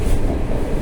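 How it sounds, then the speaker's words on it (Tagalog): Train rolling into a station in Szeged, Hungary: a steady, loud, close rumble and rattle that fills the short stretch without a break. "approaching na yung tren sa station"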